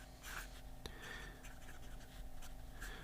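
A steel broad-nib fountain pen scratching across paper in a few soft, close strokes with brief pauses, over low steady background hum.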